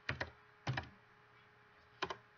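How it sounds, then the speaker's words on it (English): Quiet clicks of keys on a computer keyboard in three short bunches of two or three keystrokes each, close and soft against a faint steady hum. "Let's type mandala."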